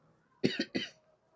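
Three quick coughs close by, the first two rapid and the third slightly longer, with quiet before and after.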